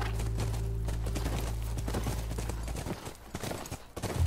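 Horse hooves clip-clopping in the video game The Last of Us, near a Wyoming ranch house, a steady run of hoof falls over low droning game ambience and music.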